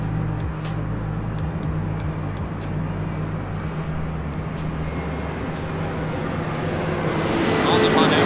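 A Boeing 787-9 Dreamliner on a flight to Tokyo Haneda at LAX gives a fairly quiet, low rumbling engine drone with some road-traffic hum underneath, swelling slightly toward the end.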